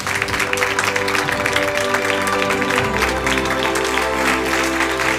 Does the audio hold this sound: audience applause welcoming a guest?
yes